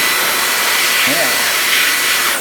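A Hingso brushless electric compressed air duster runs at high speed, a loud, steady, high-pitched rushing whir close by, with a faint voice briefly underneath.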